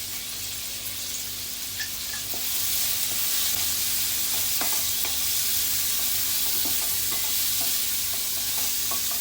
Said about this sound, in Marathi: लसूण जळून नाही द्यायचा तर आपण परतून कांदा घालायचा आहे त्याच्यात